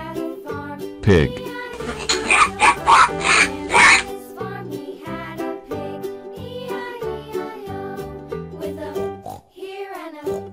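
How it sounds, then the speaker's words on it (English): Pig oinks sound in a quick run of short grunting snorts, set amid bouncy children's music with other playful animal-like calls. "Pig."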